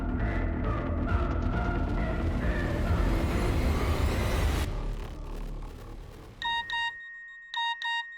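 A loud rumbling din of traffic and noise fades away, then a phone gives a short bright message alert, two pairs of quick electronic beeps near the end.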